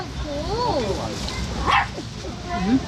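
A dog gives a brief bark and a few yips mid-distance outdoors on a valley path, with people chatting throughout and over the sound.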